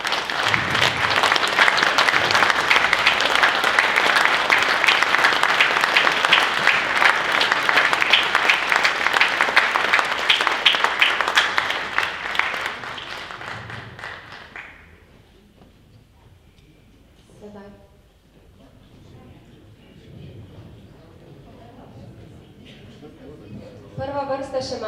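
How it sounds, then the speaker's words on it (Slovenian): Audience at a commemorative ceremonial session giving loud, sustained applause for about fifteen seconds, then stopping abruptly, followed by quiet shuffling and murmuring. "Hvala, še en aplavz za vse."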